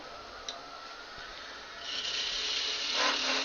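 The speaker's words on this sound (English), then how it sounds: "Start the lathe back up. Now I'm going to take my parting tool" A wood lathe spins a piece being turned into a Christmas tree while a parting tool is brought to the work, giving a low continuous hum, then a brighter, louder scraping hiss as the tool bites near the end.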